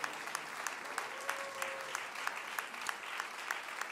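Scattered clapping from a church congregation after a sermon, a quiet, uneven patter of distinct hand claps with faint background voices.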